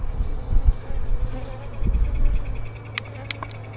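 Honeybees buzz steadily close by during hive maintenance, a dense droning hum with a few louder swells and faint higher clinks near the end.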